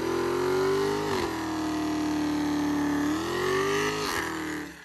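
A 2022 Dodge Hellcat Redeye V8 growling loudly up close, its pitch swelling and dipping in two rev surges with a dense, rumbling exhaust tone and no voices.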